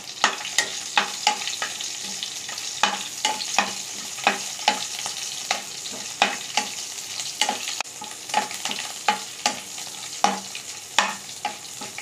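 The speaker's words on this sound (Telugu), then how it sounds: "అలాగే కచ్చాపచ్చగా దంచుకున్నటువంటి వెల్లుల్లిపాయలు, అలాగే ఇందులోనే 2 ఎండు మిరపకాయల్ని వేసుకొని బాగా కలుపుకుందాం." Crushed garlic and two dried red chillies frying in hot oil for a tempering, a steady close sizzle broken by regular scrapes and clinks of a spoon stirring the pan, with no talking.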